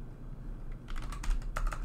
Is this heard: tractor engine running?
no